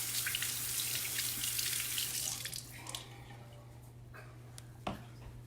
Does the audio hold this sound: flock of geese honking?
no